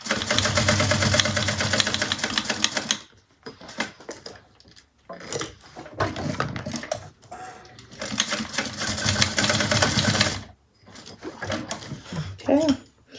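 Sewing machine stitching a fabric bag handle, close and loud, running in several bursts of rapid mechanical chatter broken by brief stops and starts, with short pauses between runs.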